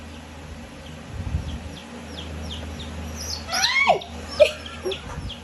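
A baby chick peeps in thin, high repeated chirps amid a faint buzzing background and some handling noise, with brief excited human exclamations in between.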